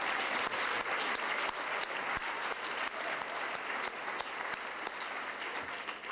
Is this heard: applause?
yes